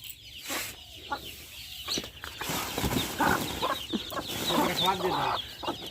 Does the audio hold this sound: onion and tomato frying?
no